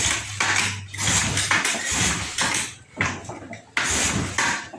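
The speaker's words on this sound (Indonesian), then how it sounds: "Coba kita engkol." Repeated kick-start strokes on a Honda Beat FI scooter with a dead electric starter come as rhythmic bursts of mechanical clatter and thumps, roughly five attempts, with no engine catching.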